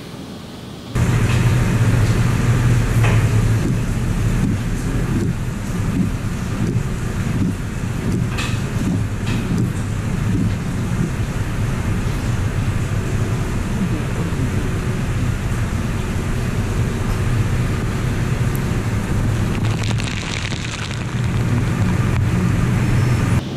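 An automatic car wash runs over a truck carrying a ToolGuards roof top bag, with a steady loud roar of spraying water and machinery filling the whole span and no talk.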